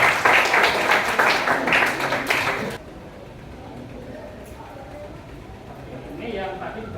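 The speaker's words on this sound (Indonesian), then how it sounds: "Ya, tepuk tangan untuk Mas Ali." A classroom crowd claps for a student named Mas Ali during a teaching session: a dense, loud burst of applause that lasts about three seconds and then cuts off to quiet room tone.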